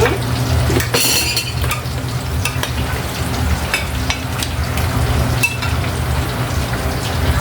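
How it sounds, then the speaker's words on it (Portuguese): Rice and beans are served into takeaway lunch boxes in a home kitchen, with frequent close clinks of a utensil against pots and containers over a steady sizzling, stirring background. "Eu vou montar já as marmitas do primeiro pedido."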